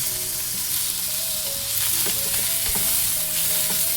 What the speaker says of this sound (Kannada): ಮೀಡಿಯಮ್ ಫ್ಲೇಮಲ್ಲಿ ಇಟ್ಕೊಂಡು ಟೊಮೊಟೊ ಹಣ್ಣ ಫ್ರೈ ಮಾಡ್ಕೋಬೇಕು